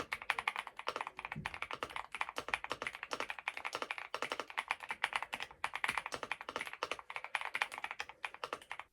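Fast, continuous clacking of keys on an Infiverse Infi75 mechanical keyboard, close and crisp, with a steady rapid rhythm and no talking.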